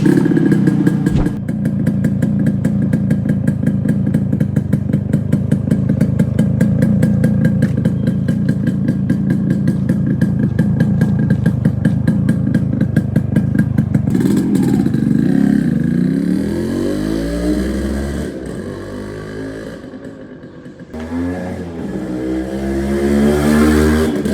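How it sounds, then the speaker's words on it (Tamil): A 1986 Yamaha RX100 two-stroke motorcycle, modified, fires up and runs loud and close, holding a steady buzzing idle before being blipped through several sharp revs that rise and fall near the end. "இப்போ இந்த வண்டியோட சவுண்டு பார்க்கலாங்க ஸ்டார்ட் பண்ணி காமிக்கிறேன்"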